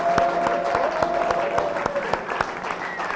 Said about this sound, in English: And so to Action Man, let's give him a round of applause anyway.